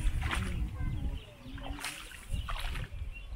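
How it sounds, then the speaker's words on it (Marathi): Traditional wooden rowboat on a Konkan creek near Giriye, Devgad, with soft splashes and sloshing of oars in the water, close by and continuous, while someone talks over it. "होडी प्रवास करतोय बघा."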